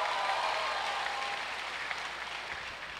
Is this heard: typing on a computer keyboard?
no